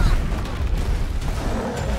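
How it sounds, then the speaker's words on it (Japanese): An explosion in the video game Monster Hunter World Iceborne, heard as a dense, loud, rumbling roar that fills the whole moment without a pause. "爆発しないで、爆発してる。"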